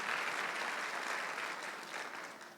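A congregation claps together during a Korean Sunday church service, a soft even wash of applause heard from a distance that holds steady with no voices on top.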